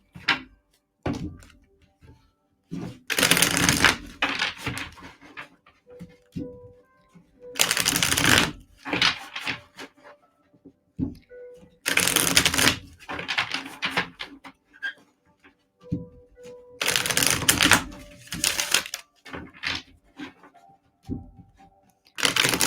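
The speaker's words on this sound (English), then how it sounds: "Let me do a quick shuffle here and get rid of these cards." Tarot cards shuffled by hand in several separate bursts of quick riffling, each a few seconds long, with short quiet gaps of soft handling between them, close and clear.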